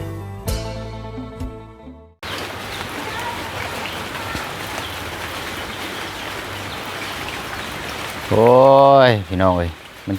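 Steady rain falling on a surface, a continuous broadband patter heard close and fairly loud for most of the stretch, with a voice briefly speaking over it near the end.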